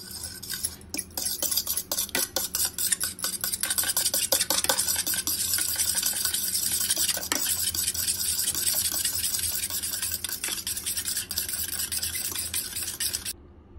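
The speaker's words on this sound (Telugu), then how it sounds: "ఇప్పుడు దీన్ని విస్కర్తో కానీ లేదంటే ఫోర్క్తో కానీ మనం బీట్ చేసుకుందాం." Two eggs being beaten with a whisk or fork in a bowl, giving a fast, steady run of light clicking and scraping strokes that carries on without a break, close and fairly loud, with no talking.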